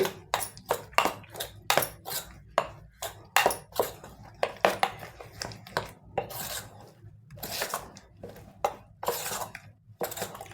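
A spoon works sprouted-lentil idli batter and salt together in a bowl, making a close, rhythmic run of scrapes and clinks against the bowl's sides with no speech.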